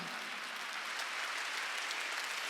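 A church congregation applauds during a Wednesday worship service, dense continuous clapping from many hands filling the room at a steady level without pause.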